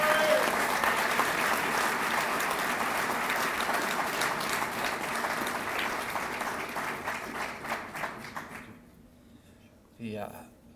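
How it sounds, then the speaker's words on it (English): A press-conference audience applauds a women's ice hockey coach, with steady, even clapping that gradually thins and dies away near the end, followed by a short spoken voice. "let's give a warm round of applause for Scott McDonald"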